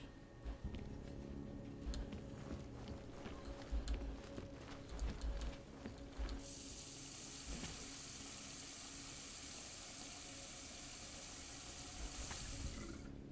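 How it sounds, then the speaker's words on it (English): A tap runs steadily in the Deus Ex: Mankind Divided video game, a constant hiss of water that grows brighter and fuller halfway through over a low background hum. "That's a lot of water."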